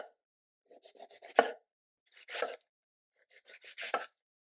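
A knife slices eggplant on a cutting board with crisp, separate chopping strokes in three quick bursts with short pauses between them, close and clear against near silence.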